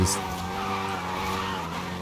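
A front-wheel-drive Hyundai hot hatch slides on the handbrake with a long tire squeal over a steady engine drone, loud and close.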